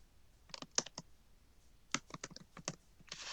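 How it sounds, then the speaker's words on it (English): Quick bursts of key presses on a computer keyboard, close and fairly quiet, in two short runs separated by a brief pause. "With the cell selected, you just start typing it."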